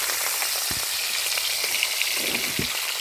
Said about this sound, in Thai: นี่จะทอดมาพอสมควรแล้วนะคะ